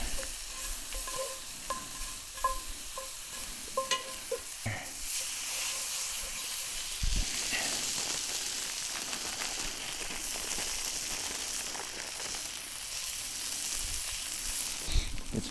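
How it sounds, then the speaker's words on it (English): Butter sizzles and crackles softly in a hot pan at a desert campsite, a steady frying hiss with occasional scraping and stirring clatter. "we're gonna pop a little bit of butter up in here. Oh, and that's gonna be sizzling"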